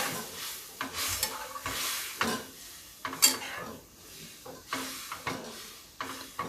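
Cooked rajma beans being stirred in a metal pan, with repeated scraping strokes and clinks of the spoon against the pan at an uneven rhythm, close and fairly quiet.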